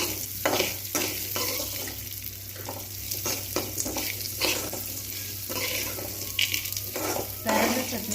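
Onions frying in a pan for pirandai chutney, a steady close sizzle with occasional scrapes and stirs of a spoon against the pan, continuous and fairly loud, no talk.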